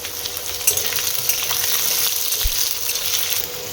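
Potatoes sizzle and crackle steadily in a hot wok of oil spiced with five-spice tempering, bay leaf and dried red chillies, a close, continuous frying hiss without pause.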